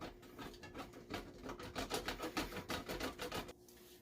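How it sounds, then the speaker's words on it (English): A stick of butter rubbed down the big-hole side of a box grater, giving a close, steady run of rhythmic scraping strokes that stops abruptly near the end. "you're going to grate it on the big hole side of a box grater, just like this"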